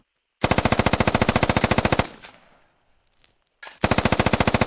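Long bursts of automatic machine gun fire from an MG in a tactical military shooter video game, loud rapid rounds for about a second and a half, a short pause with faint noise, then another burst.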